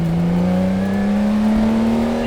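Engine of the 1965 Le Mans-winning Ferrari 250 LM, heard from inside the cockpit: a loud, steady, sustained drone that holds one tone and climbs slightly in pitch as the revs build, with no talking over it.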